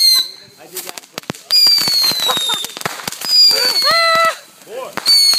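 Fourth of July fireworks exploding close by: sharp cracking bangs and popping bursts mixed with shrill whistling and screeching rockets that rise and fall in pitch, loud and repeated throughout.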